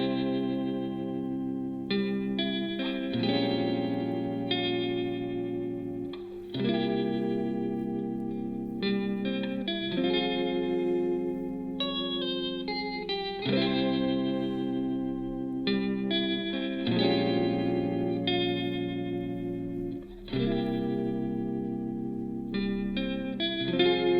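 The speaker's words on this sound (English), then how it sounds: "a large part of that is informed by the tremolo guitar sound" Tremolo guitar with a dreamy chorus-like effect, pulsing sustained chords repeating steadily in a continuous instrumental passage, with no talking.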